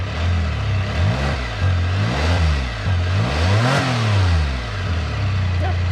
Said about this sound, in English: No, definitely a 3-cylinder, definitely a little quiet.